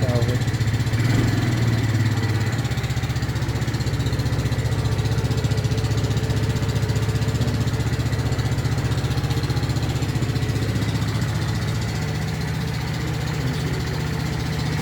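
A Royal Alloy GP 180 scooter whose fuel was contaminated with water runs steadily at a repair shop: a loud, close, continuous engine drone with a low throb that holds evenly throughout.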